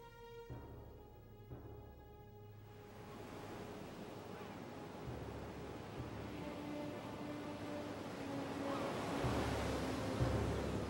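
Sea waves roll in at Cape Sounion in Greece, a steady wash of surf and wind that swells louder toward the end, heard at a distance and without speech.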